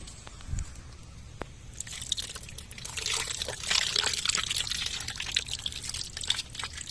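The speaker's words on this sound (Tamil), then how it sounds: "தயிர் ஊற்றிக்கலாம்" Yogurt poured into a pot of Malabar-style country chicken biryani with powdered cinnamon, cloves and cardamom, a soft wet trickling and glugging that swells midway and keeps going, fairly close and moderately loud.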